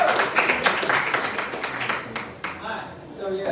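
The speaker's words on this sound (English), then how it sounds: "Give a round of applause" Clapping from a summit audience after a keynote fills the space, a dense patter of applause that slowly thins out toward the end.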